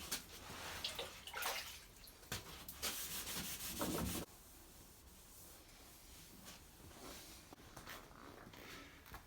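Wet sanding of car bonnet paint with 1500 grit paper: a steady wet rubbing and scrubbing, louder in bursts over the first four seconds, then a softer continuous swish.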